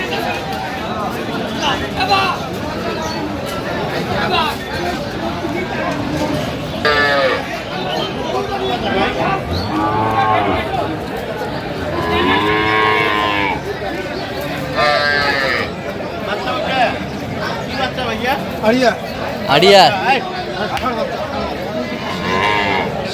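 Dairy cows and calves lowing repeatedly amid a busy crowd, with people chattering and calling all around at the noisy outdoor Aftabganj cattle market in Dinajpur, Bangladesh.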